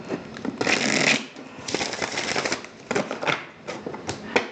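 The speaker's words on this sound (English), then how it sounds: "I'm going to give the cards a couple more shuffles" Tarot cards being shuffled by hand, a few rapid riffling bursts with short pauses between them, close and crisp with no talking.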